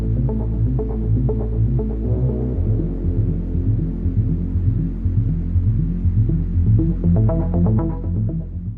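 A sewing machine stitching together the seams of thrifted patchwork shorts gives a steady, close humming drone with a regular throbbing pulse that runs without a break and without any talking.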